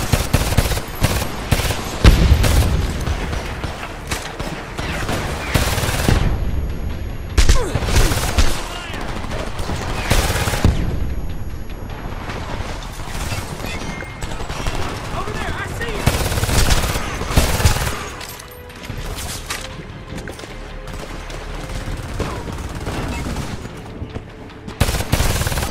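Sustained automatic gunfire and heavy blasts from RPGs fill a firefight in the video game Homefront, loud and relentless with brief lulls, while soldiers shout over the battle.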